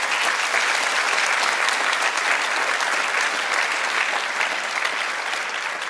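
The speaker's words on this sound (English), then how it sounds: "Let's give them all a huge round of applause." A large audience at a TEDxSydney Youth event breaks into sustained applause, a dense, steady roar of many hands clapping together that holds at an even level throughout.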